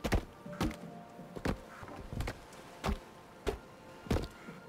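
Axe blows land on tree stumps in the survival game Sons of the Forest, a series of about eight solid dull thunks spaced roughly half a second apart, fairly quiet with no talking.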